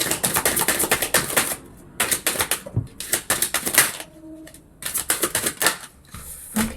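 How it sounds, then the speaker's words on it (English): Tarot cards shuffle and flip in quick crisp runs of slapping, riffling clicks, close and fairly loud, broken by short pauses between bursts. "So many cards flipping here, it's absolutely ridiculous."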